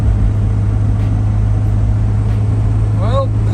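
A 1992 Mazda NA Miata with freshly replaced spark plugs drives along, its engine holding a steady, loud low drone with road noise throughout, and a brief vocal sound near the end.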